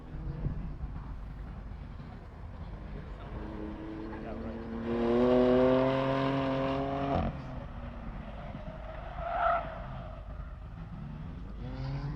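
A Tesla race car pulls away at the green on the Gingerman track, its rising electric whine and road noise swelling for a couple of seconds at moderate distance before fading, amid steady background rumble and distant talk.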